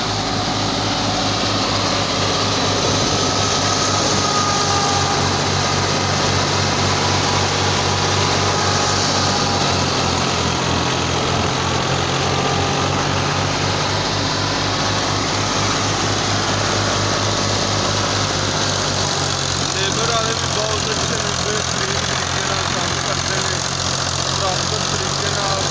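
A Ghazi tractor engine runs continuously while driving a wheat thresher, a loud, steady mechanical drone and rumble with rhythmic knocking and rattle throughout, and a voice speaks under the machinery.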